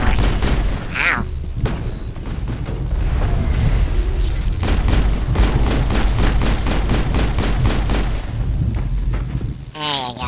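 Gunfire while shooting enemies in a video game, rapid repeated shots in dense bursts across the whole stretch, loud and close, with brief louder impacts near the start and end.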